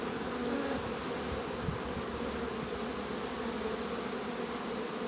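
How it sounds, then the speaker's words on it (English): Close, continuous droning hum of a honeybee swarm crawling over a person's hand, steady and unbroken throughout with no speech. "when you see the bees now, see them running, as you spread your hand out, the bees sort of spread and move more"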